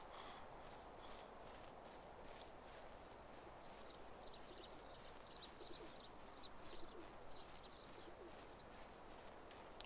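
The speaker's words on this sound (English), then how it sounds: "I hear a pigeon." A pigeon coos faintly in the medieval village countryside of the video game Medieval Dynasty, soft low calls under light ambient birdsong and quiet footsteps, with no speech.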